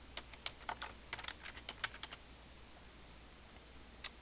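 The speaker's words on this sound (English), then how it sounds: "now I'm going to type my name." Close, quick clicking of a computer keyboard as a name is typed, a burst of irregular keystrokes for about two seconds, then quiet room tone and one final sharp click.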